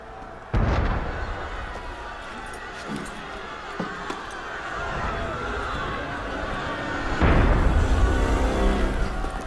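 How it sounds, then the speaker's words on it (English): Two heavy booming blasts of cannon fire in the video game Assassin's Creed Unity, separated by several seconds, with rumbling and scattered clatter between them. "That was cannon fire."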